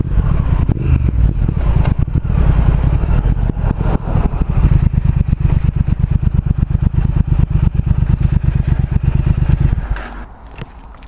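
A 2019 Triumph Speed Twin motorcycle is ridden, its engine a loud, continuous, throbbing rumble close by for about ten seconds before it drops away quickly near the end.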